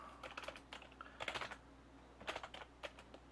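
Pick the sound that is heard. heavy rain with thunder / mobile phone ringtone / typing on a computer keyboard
typing on a computer keyboard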